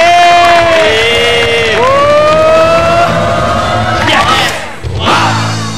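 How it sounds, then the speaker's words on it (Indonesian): An audience at an insurance talk show erupts in loud, whooping cheers, with voices shouting and rising in pitch over a crowd roar, then swells again near the end. "kasih tepuk tangan, kasih suara"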